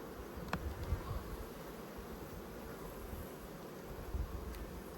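A quiet, steady drone of many honey bees rises from an opened hive, soft and diffuse, with occasional faint passing buzzes.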